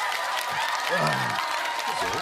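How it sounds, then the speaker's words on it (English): A crowd applauds and cheers in a steady wash of clapping, with someone talking over it. "Crowd's going wild."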